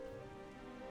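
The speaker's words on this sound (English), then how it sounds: "It's kind of raining" Soft, steady rain falls on a surface outdoors, a faint even patter without pause and with no voices.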